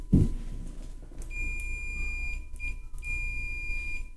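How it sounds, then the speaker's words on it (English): A multimeter continuity check gives a thin, steady electronic beep tone continuously after a brief bump, holding for several seconds with small interruptions, fairly quiet over a low hum. "Hopefully that beep beep's coming through."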